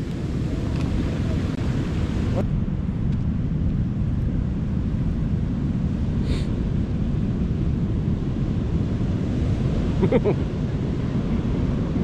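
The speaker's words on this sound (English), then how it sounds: "It's waves like this though that we need during the winter" Steady roar of surf washing ashore on a black-sand Washington beach, broad and continuous, with wind rushing across the microphone and no clear speech.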